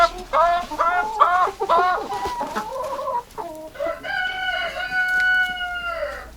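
Chickens cluck in a short rhythmic burst of calls, then a rooster gives a long, loud crow close by, heard plainly with no talk over it.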